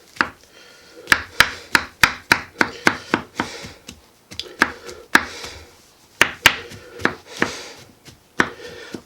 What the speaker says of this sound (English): just make sure we got it all chopped up, and be careful of your hands